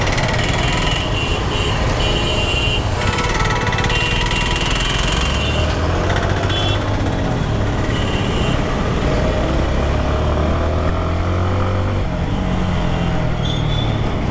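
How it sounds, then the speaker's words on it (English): A Suzuki Intruder 150 ABS motorcycle engine drones steadily while riding through traffic, with shifting pitch as it revs, mixed with continuous wind and road noise. "The bike sounds very, very sweet."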